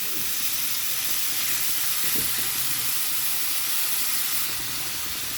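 Chayote pieces fry in hot oil over a high flame, giving a loud, unbroken sizzle with a brief stirring clatter partway through.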